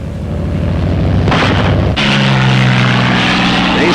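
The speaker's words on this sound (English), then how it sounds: "The fighter fields, thunderbolts are ready." P-47 Thunderbolt fighter aircraft from 1944 run their propeller engines loudly up close, a dense roar that surges sharply partway through and settles into a throbbing drone with tonal engine notes.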